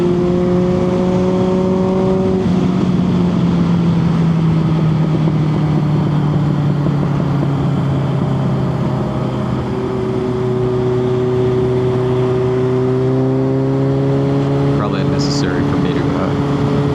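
A retro motorcycle's exhaust drones loudly while riding, engine pitch holding steady then dipping and climbing again as it accelerates, with wind noise throughout.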